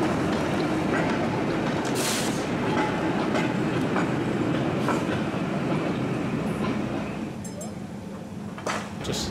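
Diesel trains rumble and clatter along a busy railway museum platform, a continuous loud rolling drone with wheel clicks and a few sharp squeals, while people talk faintly nearby.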